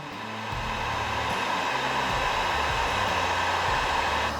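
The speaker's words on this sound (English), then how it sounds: "I have my little heat gun here from Harbor Freight warming up." A small Harbor Freight heat gun runs steadily close by, a continuous loud blowing roar with a low motor hum that holds level for the whole stretch, no one speaking.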